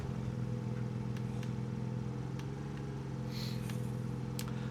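A steady low engine drone of a car cruising in the video game State of Decay 2, constant and unbroken, with faint clicks and a brief higher whine partway through.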